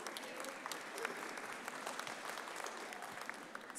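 Dense, steady applause from an audience at a high school event, sustained throughout with many overlapping claps and no voices standing out.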